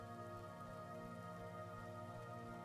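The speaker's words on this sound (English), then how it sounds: "going through this is Stros Makai in the rain" Rain falling in Stros M'Kai in a video game, a faint, steady patter and hiss of drops continuing evenly with no voices.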